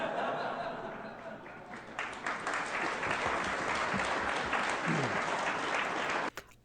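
An audience breaks into applause, building from scattered claps into a dense, sustained round mixed with some laughter, then cutting off abruptly near the end.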